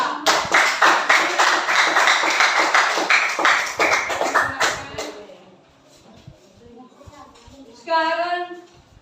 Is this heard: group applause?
yes